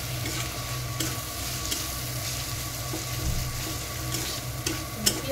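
Onions and spices sizzle steadily in a small amount of oil in a pan, with occasional stirring clicks and scrapes over the constant frying hiss.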